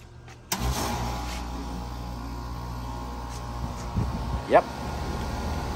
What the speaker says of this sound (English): The compressor is running.